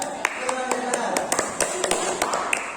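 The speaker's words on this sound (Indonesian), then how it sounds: "silakan tepuk tangan untuk kelompok B" Applause in a classroom for a student group, a run of sharp hand claps scattered across the room with voices talking over them.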